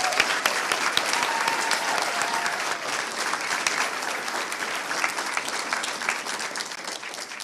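Steady, dense applause fills a school board meeting room, a large audience clapping continuously at an even level from start to finish with no voices standing out.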